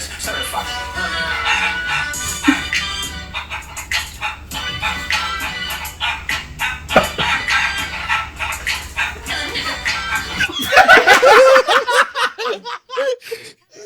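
Chicken clucks arranged to mimic spoken words play loud and continuous, a choppy stream of fowl-like squawks and crowing tones, ending in a denser, harsher burst.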